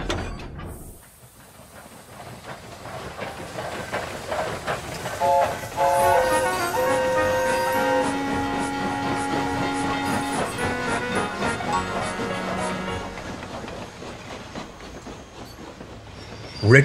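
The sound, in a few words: train shunting tankers in a goods yard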